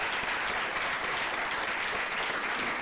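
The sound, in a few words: applause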